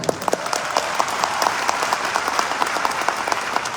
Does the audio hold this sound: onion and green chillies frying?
no